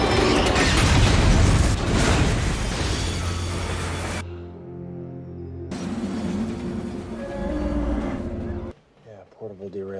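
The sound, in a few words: cargo train 777 crashing into another train's tail, film Unstoppable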